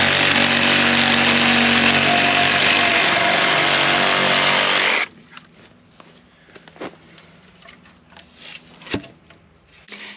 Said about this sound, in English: If you're wondering why I cut this post off instead of yank it out of the ground